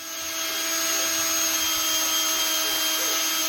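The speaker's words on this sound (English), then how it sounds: "So after I've given both sides a good sanding with the 800" An electric power sander works a helmet visor with 800-grit paper at a slower speed, giving a steady, close, continuous whirring whine with a constant hiss and no breaks.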